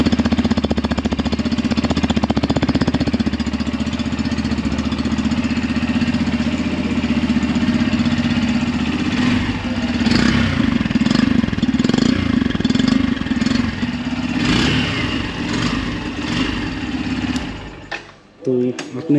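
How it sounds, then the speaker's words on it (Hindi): A Yamaha FZS V3 Deluxe Edition motorcycle engine starts and idles loudly and close, a steady rattling exhaust throb that holds for a while and then cuts off near the end. "तो आपने एग्जॉस्ट का नोट सुन लिया"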